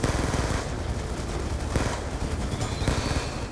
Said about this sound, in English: We're receiving heavy fire from its minigun.